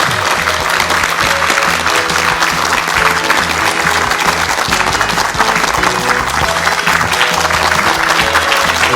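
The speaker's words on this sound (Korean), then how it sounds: "박수로 맞이해 주시기 바랍니다." A studio audience on a Korean talk show applauds to welcome a psychiatry professor guest, with loud, dense and steady clapping that carries on evenly for several seconds.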